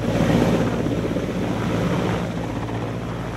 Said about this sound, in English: The roar of the helicopters over the Gochar airbase